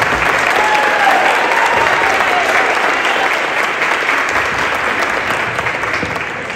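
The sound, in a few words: audience applause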